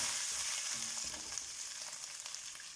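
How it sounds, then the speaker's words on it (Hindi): Beef for pulao frying with dry garam masala in a pot, giving a steady, bright sizzle with faint stirring scrapes, moderately quiet and continuous with no voices. "इसको भी फ्राई कर लेंगे।"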